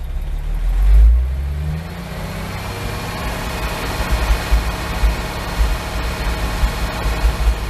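A car engine idling with a slight misfire rises in a brief rev when given gas, then settles back to a steady, uneven, close idle.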